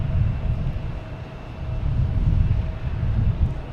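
An Airbus A321neo airliner bound for Tampa rumbles past at Boston Logan Airport, a low, buffeting engine roar that swells and eases, mixed with wind noise on the microphone and no voices.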